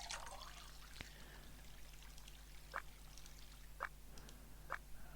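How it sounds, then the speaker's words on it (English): Water pours from one glass into another in the Escape Room: The Mist game, heard as faint soft trickling with several short, brighter splashes spaced out across the stretch. "We need to pour the water from one glass to another and get in one of the glasses half of a liter."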